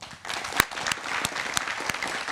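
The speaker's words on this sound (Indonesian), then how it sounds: "Tepuk tangan dulu dong." Audience applause in a television talk-show studio, a steady wash of clapping with a few sharp, close hand claps standing out above the rest.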